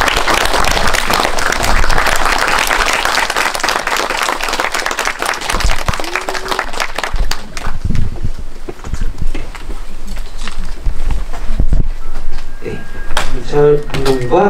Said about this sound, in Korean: 박수로 한 번 부탁드릴게요